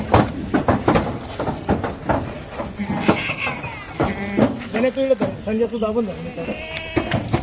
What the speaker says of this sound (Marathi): एक नंबर क्वालिटीच्या शेळ्या चालल्या